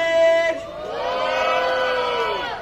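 A crowd at a hip hop b-boy battle cheers and whoops for a dancer's entrance, a loud burst of voices swelling after a short sustained shout, with high whistles and yells carrying over the noise.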